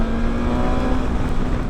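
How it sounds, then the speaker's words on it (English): A high-revving inline-4 engine on a 2020 BMW S1000XR motorcycle screams with a steady, sustained whine, loud and close, holding pitch without pause. "I do love the scream of an inline-4 engine at high revs."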